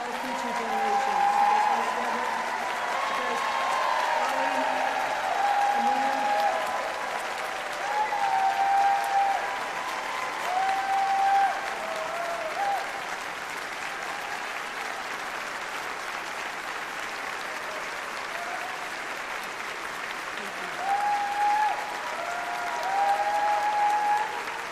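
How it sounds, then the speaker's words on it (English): Enthusiastic audience applause fills a large hall at the UUA General Assembly 2019 worship service, a sustained clapping wash that swells and fades in waves over about twenty-five seconds. "I am so glad to hear your enthusiastic applause for their leadership"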